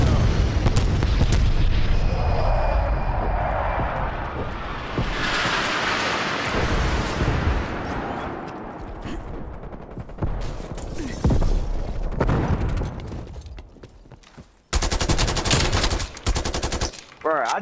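Strafe run in the Call of Duty Cold War video game: rapid machine-gun fire and booming explosions crowd the scene, loud and dense, with heavy blasts rolling through and brief lulls before more gunfire near the end.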